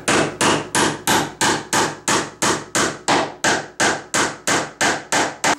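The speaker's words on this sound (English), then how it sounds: "So now that I have countersunk all my nails" Steady, rapid hammer blows ring out one after another, about three per second, loud and close with no talking, as nails are driven and countersunk.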